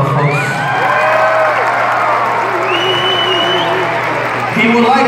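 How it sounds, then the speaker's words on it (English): Audience applause and cheering at a Shrine circus after a human pyramid act, a broad steady roar of clapping with whoops and shouting children, with a clear voice cutting through at moments. "How about a round of applause, folks?"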